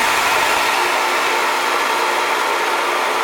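An Arde Barinco homogenizing mixer mounted on a tank runs at a steady, loud, broadband whirring roar with a constant motor hum underneath, unbroken and close.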